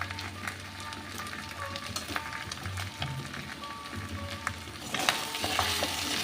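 Vinegar-marinated prawns fry with mutton in a pan, a continuous close sizzle with scraping stirs and occasional utensil knocks, growing slightly louder toward the end.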